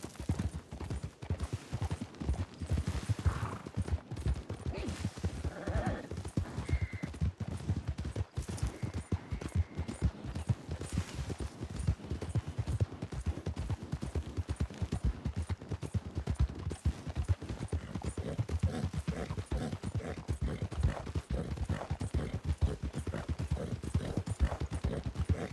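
Horse hooves clip-clop steadily in the Red Dead Redemption western video game, a continuous rhythmic trot with occasional faint whinnies and distant gunfire in the background.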